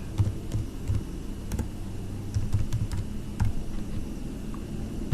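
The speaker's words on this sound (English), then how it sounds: "So yeah, I can type ethnic group of respondents." Irregular clicks of keys on a computer keyboard as text is entered into SPSS, quiet and close, with a steady low hum underneath and no talking.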